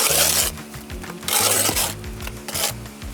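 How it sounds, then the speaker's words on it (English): A concrete block is rubbed down onto fresh mortar atop a wall, making repeated gritty scraping and rasping strokes, close and steady, with no voices. "as we put our block on, just rub that down a little"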